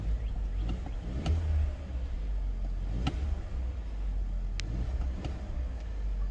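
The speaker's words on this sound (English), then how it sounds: "let's see how it sounds under revs" A warmed-up 2021 Ford Explorer Limited engine revs in a few short bursts over a steady idle, with brief clicks along the way.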